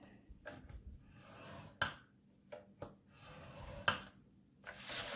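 Paper scored on a scoring board for a mug cake holder: a few quiet scraping strokes and light clicks, close up, with short pauses as the sheet is turned.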